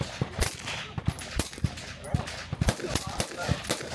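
Suppressed 9mm pistol fired through a Shadow Silencers suppressor with cooling technology, a rapid string of sharp muffled cracks in quick succession, close, with some voices mixed in.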